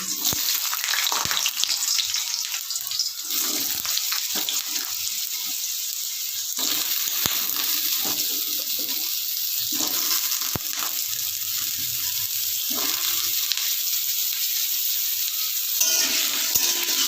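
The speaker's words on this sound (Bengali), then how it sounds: "এবার আমি কেটে রাখা আলুগুলো এর মধ্যে দিয়ে দিচ্ছি।" Cut potatoes hitting hot oil tempered with whole spices, giving a steady loud sizzle and crackle with some clinks of stirring, no talk.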